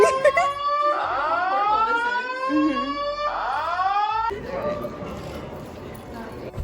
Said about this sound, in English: Got woken up by a fire alarm.